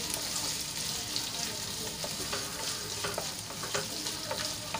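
Finely cut boiled potatoes stirred and sautéed in hot oil, a dense steady sizzle with light scraping strokes close by, no speech.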